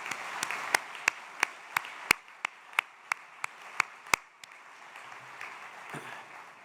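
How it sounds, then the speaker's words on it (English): Graduation audience applauding support staff at an MBA ceremony in Singapore: a dense wash of clapping with several sharp, distinct nearby claps standing out, tapering off toward the end. "Please help me give them a round of applause for their support as well."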